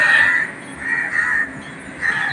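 Several harsh crow caws repeat at intervals outdoors in the early morning, fairly loud, with no talking over them.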